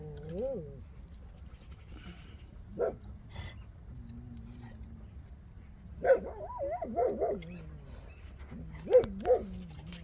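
Forest dogs being fed in hot summer weather bark, yip and whimper in short scattered bursts, several overlapping near the end, over a low background murmur.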